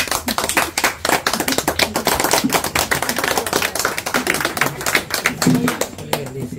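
Applause from a family gathering celebrating a wedding announcement, steady rapid clapping from several people throughout, fairly close and lively.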